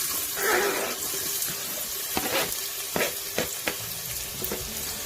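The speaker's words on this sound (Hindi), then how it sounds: "1 मीडियम साइज का मैं प्याज ऐड कर रही हूँ।" Onion added to hot oil sizzles and hisses in a steady wash, with a few sharp clinks of a utensil against the pan.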